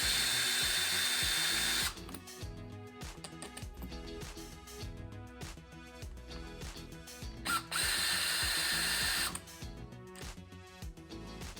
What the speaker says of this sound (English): We're going to go ahead and remove the 2 bottom shock screws.